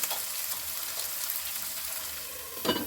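Eggplant sautéing in a pan gives a soft, steady sizzle throughout, with a brief louder scrape of stirring near the end.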